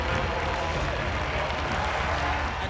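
Loud, dense clapping from a crowd fills the whole moment, a continuous roar of applause close by.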